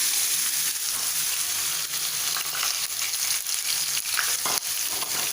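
Onion dropped into hot oil with crackling mustard seeds and cumin, a steady close sizzle and frying hiss running throughout with small pops and spatters, no voices.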